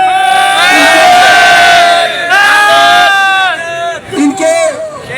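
A protest crowd chants slogans in unison, loud, voices rising in sustained tonal shouts, several phrases in a row with brief pauses between them.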